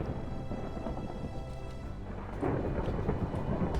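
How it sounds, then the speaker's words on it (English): Heavy rain hisses steadily in Minecraft while low thunder rumbles underneath, swelling louder partway through. "the rain and the thunder. We got noises in the ear."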